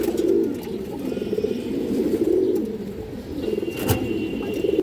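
Pigeons of fancy colourful breeds coo steadily in soft, low, rolling calls, with a faint chirp and a brief sharp noise partway through.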